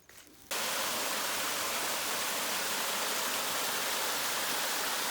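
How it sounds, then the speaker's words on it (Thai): The large Ari Doi waterfall roars as a dense, steady rush of falling water, loud and close, surging in abruptly after a brief quieter moment and holding constant throughout. "เราก็มาถึง น้ำตกอารีดอย นะครับ น้ำตกใหญ่"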